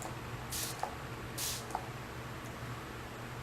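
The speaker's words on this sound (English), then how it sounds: "And then just spray it 2 or 3 times." Two short, soft hissing bursts of a makeup setting spray bottle, about a second apart, in a quiet room.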